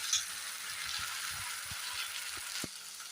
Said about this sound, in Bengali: দিয়ে এখন মশলাটাকে আমি ভালো করে কষবো, যতক্ষণ মশলা থেকে তেল না বেরিয়ে আসছে।